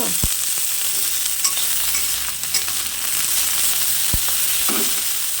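Pointed gourd and mixed vegetables sizzle steadily in a pan, with occasional clinks and scrapes of a spatula stirring, close and continuous without any voices.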